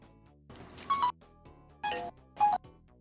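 A phone rings for an incoming call, three separate chiming tones in a row with short quiet gaps between them, clear and close.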